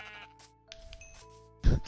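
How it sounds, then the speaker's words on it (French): Sheep in the Minecraft video game bleat in short synthetic calls, with a louder bleat near the end over quiet game background sounds, no speech. "L'autre mouton, il a hurlé, il a fait aïe"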